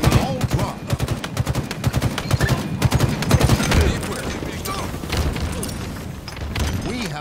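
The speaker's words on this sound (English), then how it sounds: "Tossing a nade." Rapid gunfire and booming grenade blasts in Halo Infinite multiplayer, a loud, dense string of sharp shots with heavier explosions mixed in, close and continuous throughout.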